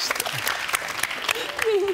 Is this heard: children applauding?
yes